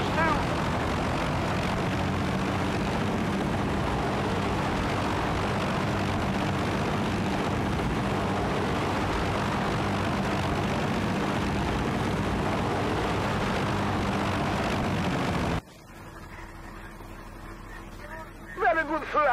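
A helicopter in the video game Battlefield: Bad Company drones on with a steady, loud rotor and engine roar for most of the clip, then cuts off abruptly, leaving quieter game sounds.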